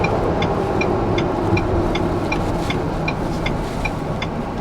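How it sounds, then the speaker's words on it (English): A Ford Bronco Badlands lined with Dynamat cruises on the interstate, a steady broadband road and tire roar with a low engine drone heard from inside the cabin, with faint regular ticking on top. "we're going to go ahead and take the Badlands onto the Interstate"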